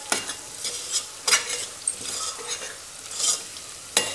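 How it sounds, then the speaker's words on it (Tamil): Masala for prawn sukka, seasoned with turmeric, fries in a pan while a spoon stirs it, giving a steady sizzle punctuated by sharp scraping strokes against the metal at irregular intervals. "இந்த மசாலா நல்லா பச்சை வாடை போகிற வரைக்கும் பிரட்டி ஒரு ரெண்டு நிமிஷம் நல்லா கிண்டிக்கிட்டே இருக்கணும்"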